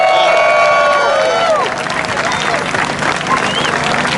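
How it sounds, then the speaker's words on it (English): A crowd at an outdoor Pride protest claps and cheers loudly and continuously, with whistles and shouts rising over the dense applause. "So give everyone else a round of applause."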